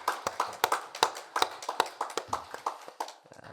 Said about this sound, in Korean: 찬양 인도한 우리 찬양단 위하여서 격려 박수하도록 하겠습니다